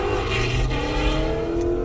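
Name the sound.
loud car passing by, revving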